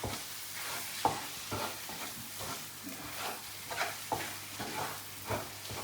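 Mashed potato being mixed into fish masala in a pan for fish cutlets, soft repeated scraping stir strokes over a faint low sizzle, fairly quiet and close.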